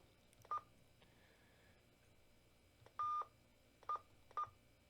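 An AnyTone AT-588MAX mobile radio plays keypad tones as buttons are pressed: four short electronic beeps, one slightly longer, spaced irregularly over a quiet background.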